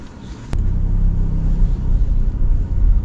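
A new car drives along with its engine running smoothly, a steady low rumble close by with a slight lift after a brief click, no talk over it.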